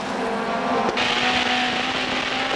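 Touring race cars at Suzuka circuit in the 1994 JTCC championship roar past in a continuous loud engine drone, with a brief sharp burst near the start and a steady high-revving tone throughout, no talk.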